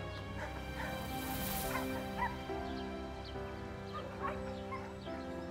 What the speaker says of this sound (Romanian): Uite, ăsta chiar e un câine senzațional.